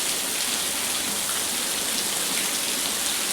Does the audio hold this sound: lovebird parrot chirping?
no